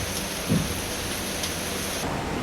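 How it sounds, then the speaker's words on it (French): Steady rain from a squall pouring down at sea with a continuous dense hiss, and a brief low rumble near the start. "Il pleut."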